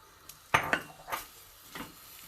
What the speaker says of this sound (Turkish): Kavurmuş olduğum etlerimin içine şimdi bir tane soğanımız vardı. Onu ilave ediyorum.